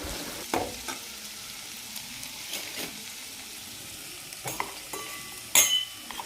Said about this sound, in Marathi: 4 ते 5 मिनटं आता फक्त आपल्याला परतवायचं आहे, ते पण हाय फ्लेमवर